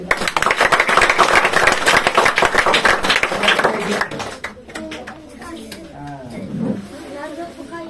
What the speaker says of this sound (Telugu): అయ్యగారులు వెనకలున్న అయ్యగారులందరికీ గట్టిగా కలిసి చప్పట్లు కొడతాం